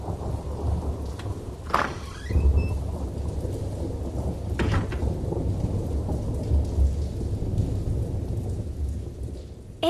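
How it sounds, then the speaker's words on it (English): Steady rain hisses throughout while rolling thunder rumbles, with a sharp crack near the two-second mark and another softer peal later. "It was raining when we left the house."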